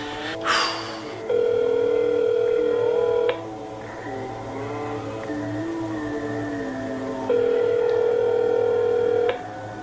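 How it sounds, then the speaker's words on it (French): A telephone call after a number is dialed: a brief dialing burst, then two long electronic ringback tones separated by a pause with a fainter warbling line tone, steady and close. "Ok, j'ai composé le numéro."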